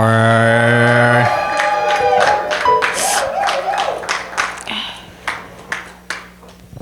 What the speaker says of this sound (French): Soutenez par des acclamations.